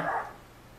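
A pet dog barks once in a home kitchen while sausage is cooking, a single fairly close bark that fades quickly into quiet room tone with no talking.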